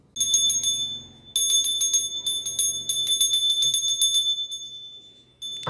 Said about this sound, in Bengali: ঘন্টা বাজাচ্ছে, উঠে পড়ো।